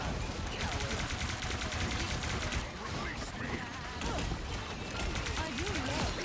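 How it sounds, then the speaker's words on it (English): Distant gunfire crackles in a Marvel Rivals match as rapid bursts of shots run through a dense, busy game mix, with voices talking over the action. "Someone's shooting from afar."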